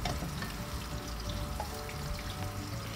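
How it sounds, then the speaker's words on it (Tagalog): White onions sautéing in a pan for menudo give a dense, steady sizzle with a faint watery crackle, close and even throughout, and no one speaks. "Pagkatapos ay ang white onions. So, igisa din natin ito hanggang sa maluto ng kaunti ang"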